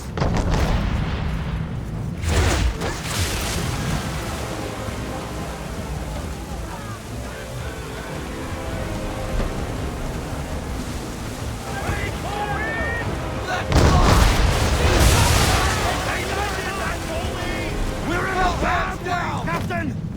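Ship cannons fire during a naval battle in Assassin's Creed 3, with heavy booms rolling over constant wind and sea noise while crew members shout orders throughout.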